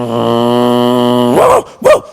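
A voice imitates a German shepherd barking, opening with a long sustained growling tone and ending in two short sharp barks, loud and close, with nothing else heard.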